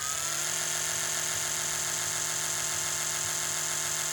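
An Oral-B iO electric toothbrush running in its first mode gives a steady, continuous high-pitched hum with a faint motor buzz, unbroken and close for the whole stretch.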